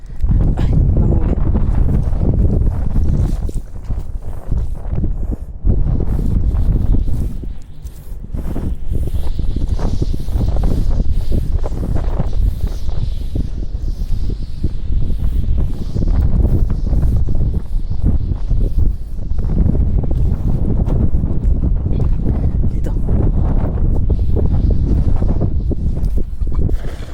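Strong wind gusts batter the microphone during seaside fishing, loud rumbling buffets that rise and fall throughout with no clear talking.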